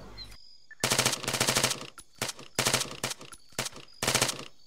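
Sustained suppressive machine-gun fire in an Arma 3 battle, loud close bursts of rapid automatic shots separated by short pauses.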